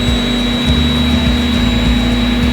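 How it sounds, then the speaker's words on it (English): A 3D printer runs with its nozzle and build plate moving, giving a loud, steady mechanical whir and fan hum with a constant tone and faint motor ticks throughout. "And then the nozzle is gonna move to where it was, and the plate is going to come up to it"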